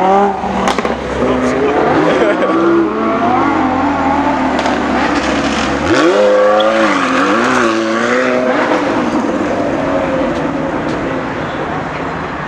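A Lamborghini Huracan pulls away from a car meet, its engine climbing through loud revving bursts with gear changes and rising pitch, close and dominant, while onlookers talk and cheer over it.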